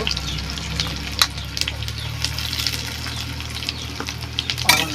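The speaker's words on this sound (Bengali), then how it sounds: "কড়াইতে কিছু তেল দিয়ে গরম করে নিব গরম হয়ে গেছে পেঁয়াজ দিয়ে দিলাম" Onions fry in hot oil in a wok, sizzling and crackling steadily, with occasional sharper pops and scraping stirs; no one speaks.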